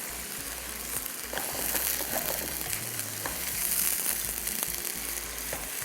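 Chicken leg and thigh pieces frying with spices in a pan on the stove, a steady loud sizzle with crackling pops and occasional stirring scrapes, close and continuous, with no talk.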